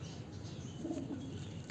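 A breeder pigeon gives a soft, low cooing call, brief and close, over steady background noise outdoors.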